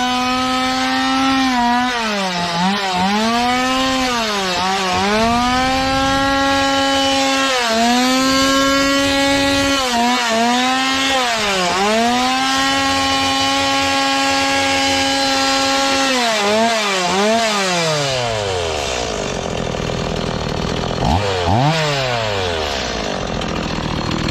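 A petrol chainsaw engine runs close and loud, revving repeatedly from idle to high speed and back in rising and falling whines, then settles lower with a final short rev at the end.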